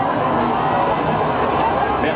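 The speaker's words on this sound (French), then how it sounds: "les militants toujours très nombreux avec des drapeaux, avec des cris, des acclamations" Large crowd of Socialist Party activists with flags gathered on rue Solferino, a dense steady roar of cheers and shouts heard from a distance, continuous and unbroken.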